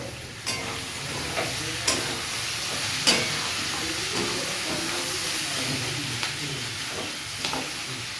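Food sizzling and frying in a pan while fried rice and braised chicken are cooked, a steady hiss with occasional soft stirring clicks and pops, moderately close with no voices.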